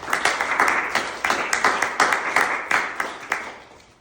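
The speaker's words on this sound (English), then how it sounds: "round of applause for Rona, who made this happen" Applause for a colleague at a company gathering, a small group clapping at close range in uneven bursts with sharp repeated claps across a few seconds, no voices over it.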